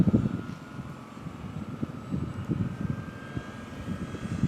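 Dynam PT-17 radio-controlled model biplane flying overhead, its small engine a faint steady buzzing drone at a distance, buffeted by wind noise that makes it pulse and flutter.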